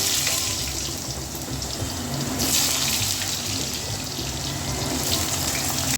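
Pieces of elephant foot yam dropped into hot oil with dried chilli, bay leaf and five-spice, giving a continuous loud sizzling hiss that swells slightly partway through, no talking.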